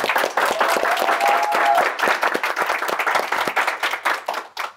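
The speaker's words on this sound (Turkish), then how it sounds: "Alkışlar Kaan'a gelsin." A studio audience claps and applauds together, a dense burst of many hands that thins into scattered claps toward the end.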